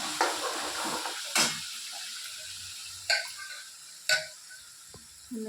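A ground paste of roasted coconut, garlic and onion with red chili powder fries in a pan, with a faint sizzle broken by a few sharp spatula knocks and scrapes against the metal, close by.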